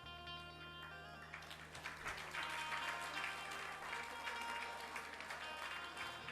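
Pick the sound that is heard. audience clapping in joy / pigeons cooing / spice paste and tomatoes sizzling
audience clapping in joy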